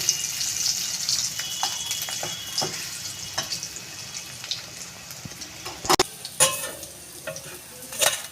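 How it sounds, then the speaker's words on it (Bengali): Raw jackfruit and prawn cutlets deep-fry in hot oil, a steady close sizzle with intermittent sharp clatters and scrapes as pieces are moved and turned, and no speech. "তেলটা গরম হয়ে গেছে আমি তেলে এগুলো ভেজে নেব"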